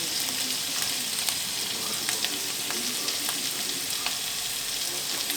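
Meatballs fry in a pan with added honey, giving a steady, close sizzle with occasional crackles and light stirring scrapes throughout.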